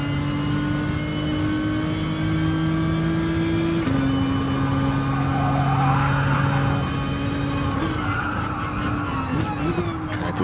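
A race car in Gran Turismo Sport drones on a sustained engine note that shifts pitch through the final corners, with tyre squeal and whirring layered over it, steady and fairly loud.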